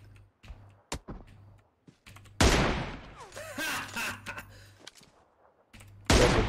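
PUBG Mobile gunfire comes as loud, sharp bursts and single shots with rapid follow-up rounds, mixed with in-game clatter and low hum between volleys.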